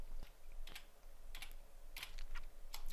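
Computer keyboard typing in a coding session, scattered quiet key clicks in an irregular rhythm, close and soft, with no talk.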